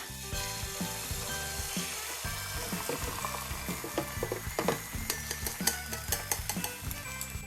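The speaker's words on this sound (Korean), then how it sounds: "계란을 붓겠습니다" Steady, crackling sizzle of beaten eggs frying in a hot pan, close by, with occasional light clinks of a utensil against the pan.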